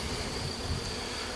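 A swarm of honey bees hums continuously at an apiary in the woods during a June hive inspection, a close, steady buzzing drone with no voices over it.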